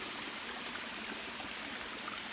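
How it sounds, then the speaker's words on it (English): Creek water flows steadily out of two hollow tubes running under a road onto a property, a continuous close rushing trickle with no voices. "there's two kind of hollow tubes underneath the road just to allow the water to come through and into the property"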